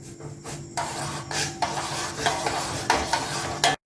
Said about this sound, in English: While heating, I will continue to stir it so that the heat is spread uniform throughout the solution.